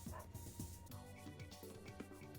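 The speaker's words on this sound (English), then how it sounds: "The fucking dog." A dog barks in short, repeated yips over dense music and background sound, fairly faint and partly buried in the mix.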